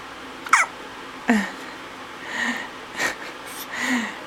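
A baby's hiccups repeat at close range: two sharp hiccups, then softer squeaky hiccup-breaths every half second or so, with no talking.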